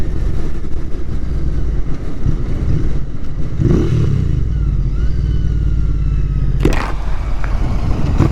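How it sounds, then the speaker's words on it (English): A 2021 Royal Enfield Interceptor 650 twin idles close and loud with a throbbing low rumble, rising in a couple of short revs near the middle and end. "Man, it's so fun to rev this bike."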